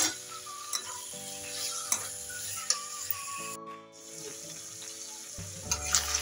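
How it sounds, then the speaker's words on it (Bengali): Mutton liver cooking in spiced oil in a pan, a soft continuous sizzle broken by sharp clicks and scrapes of stirring, with a low steady hum beneath and a brief drop in sound partway through. "মশলাটা দিয়ে আমার তেল বেরিয়ে গেছে, এবার এগুলো আমি ঢেলে দেবো, দিয়ে ভালো করে কষাবো।"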